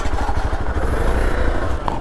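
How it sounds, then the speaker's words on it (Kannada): A motorcycle engine runs steadily and close by as the bike pulls out on a trek route near Ahobilam, with a continuous low rumble and light clatter throughout. "फिर ये गाड़ी निकला मैं"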